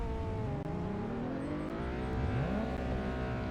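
A new family car's engine idles smoothly and then revs, a steady motor hum rising and falling in pitch at close range, with no one speaking.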